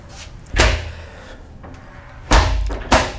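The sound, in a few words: cruise cabin shower door closing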